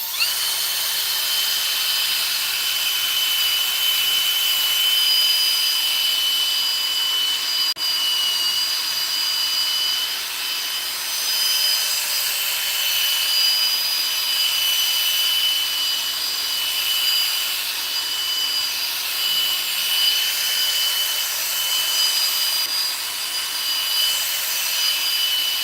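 A power drill whirs continuously with a high-pitched grinding hiss as a 2000-grit sanding disc works a car headlight, steady and close for a long stretch.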